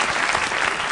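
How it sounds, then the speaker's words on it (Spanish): Audience applause for a woman at a lively Oviedo–Sporting football debate show, a loud, dense, unbroken wash of clapping filling the whole moment. "un aplauso para ella."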